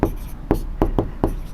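Pen or chalk writing out a math solution by hand, five distinct tapping strokes, close and fairly loud, in an uneven rhythm.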